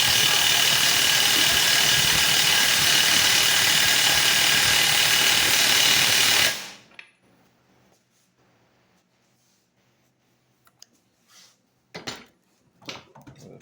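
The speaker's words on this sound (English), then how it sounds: "So let's get tightened up with this impact right here." An 18V cordless impact wrench tightens a fastener held in a vise, hammering loudly and steadily for about six seconds before cutting off, followed by a few faint clicks and handling knocks.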